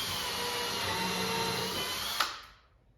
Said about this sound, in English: So now we're going to go ahead and drill and put in some screws.